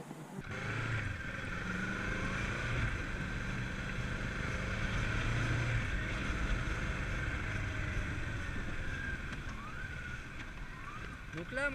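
A motorcycle in an emergency-braking demonstration speeds up to about 50 km/h, then the throttle is cut and the rear brake is applied. A steady engine drone holds throughout with a shifting pitch, close and fairly loud, under wind noise.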